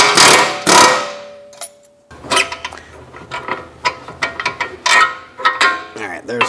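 Loud bursts of rapid metallic hammering from a pneumatic air hammer working on the engine cradle of a Mercedes E63 AMG, separated by short pauses and clanks, close by.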